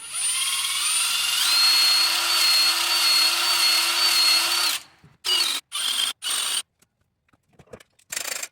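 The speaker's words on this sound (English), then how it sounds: "I use a wire brush to clean up the little bit of carbon buildup on each hole." A power tool fitted with a wire brush whirs steadily for several seconds cleaning carbon buildup from injector holes on a CAT 906M loader, then runs in three short bursts with pauses between, loud and close.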